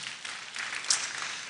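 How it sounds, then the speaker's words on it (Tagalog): A church congregation applauds at a Christmas service, a steady wash of clapping from many hands that sounds somewhat distant and stays even throughout. "Pumalakpak ka ang lahat ng kasama doon."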